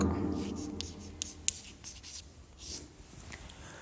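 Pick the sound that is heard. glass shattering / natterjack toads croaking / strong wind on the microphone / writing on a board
writing on a board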